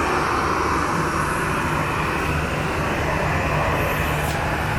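Ryanair airliner engines running on an airport apron at Treviso, a loud, steady broadband roar with a low drone that holds without a break throughout.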